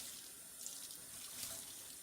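A tap runs warm water into a sink for a laser jet print image transfer onto wood wedges, giving a steady, even hiss of flowing water throughout with no voices.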